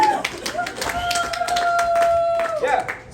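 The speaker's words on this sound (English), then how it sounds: "let's give another big round of applause for the person we're all here for, Kriss Larock" An audience at the roast of Kriss Larock breaks into steady applause for him, with dense overlapping claps, a shrill whistle or whoop held across the middle, and voices mixed into the crowd noise.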